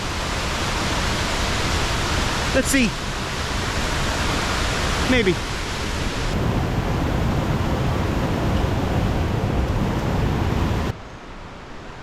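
Massive waterfall at Clare Glens, a loud, steady broadband roar of falling water close by, with someone speaking briefly over it and a short bird-like chirp.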